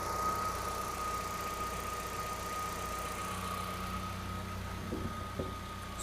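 A restarted car engine idles steadily with a low, even hum and faint whine, holding smooth and unchanging throughout with a slight bump near the end.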